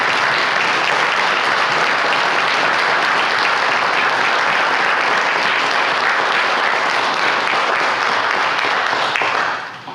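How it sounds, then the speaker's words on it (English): Loud, sustained round of applause from a community audience honoring local business donors at a town gathering, dense steady clapping for nearly ten seconds before tapering off at the very end. "let's show them our appreciation for their generosity with an enormous round of applause"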